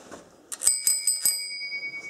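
A 1955 Rex two-speed bicycle bell rings several quick times in a row, bright metallic dings with a lingering ring that fades out.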